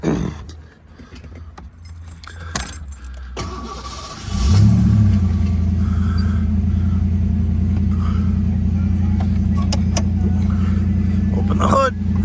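A 1989 Fox Body with a 5.0 liter V8 is started after some handling noises: the starter cranks, the engine catches with a brief rev, then settles into a steady, loud idle.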